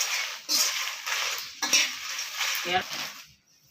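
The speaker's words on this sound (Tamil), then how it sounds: "வரமிளகா கொஞ்சமாக போட்டு வறுத்துடலாம்" Dry red chillies are stirred and roasted in a pan with lentils, giving soft scraping, rattling and light sizzling in quiet bursts, with a few metallic clinks from the utensil.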